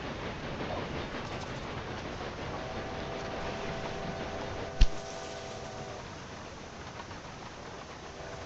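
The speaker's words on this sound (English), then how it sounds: "Very big passenger train arriving." A very large passenger train pulls in within the railway management game Railway Empire 2, its steady rolling rumble and faint tonal hum sustained under ambient noise, with one sharp clack midway.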